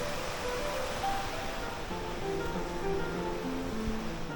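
A muddy brown river in Tucod, Cabarroguis, Quirino flows past in a steady broadband rush, close and unbroken throughout with no talk.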